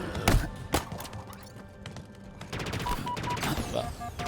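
Gunfire in the Halo Infinite video game, with sharp close shots and then a rapid run of automatic fire cracking in a dense burst, mixed with game effects and small electronic beeps.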